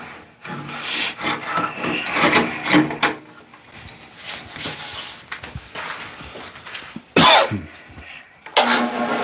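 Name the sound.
sanding a wooden bowling pin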